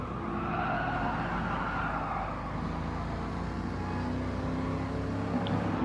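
Tires squeal as a car burns rubber in a racing video game featuring a '69 Corvette C3, Viper and Ford GT, a sustained skidding screech over a steady engine drone, with no voices.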